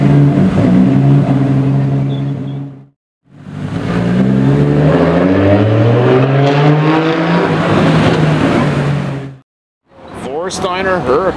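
A Ferrari F50 supercar engine revs hard and close, two long roaring pulls with rising harmonic pitch separated by brief gaps, followed by a shorter burst of revving.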